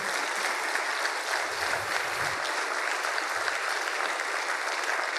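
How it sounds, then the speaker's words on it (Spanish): A church congregation gives strong, continuous applause to the Lord during a Spanish-language Sunday family service, a dense and even roar of many hands clapping that holds steady throughout with no speech. "¿Cuántos les damos un fuerte aplauso al Señor?"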